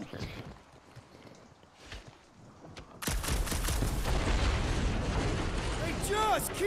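Gunfire and explosions in the video game Guardians of the Galaxy, dense loud bursts of shooting that erupt halfway through after quieter action, with voices talking over the battle.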